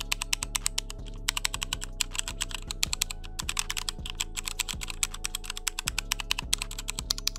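Typing on a Glorious GMMK mechanical keyboard fitted with brown Kailh switches: a close, continuous run of crisp clacks in an irregular quick rhythm, heard over a low steady hum with no talk.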